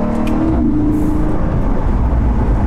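2015 Porsche Panamera GTS engine accelerating, a loud, close, throaty rumble that rises briefly then settles into a steady deep drone throughout.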